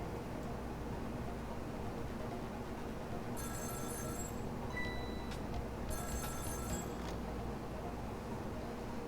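A telephone rings in the video game Ghost Trick: Phantom Detective, two bursts of bright trilling ring separated by a pause, heard over steady background hiss with no talk.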